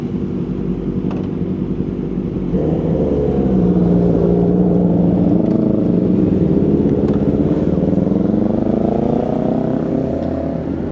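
Kawasaki Ninja motorcycles run nearby with a steady, low engine drone and a slight rise in pitch partway through, with no talk over it.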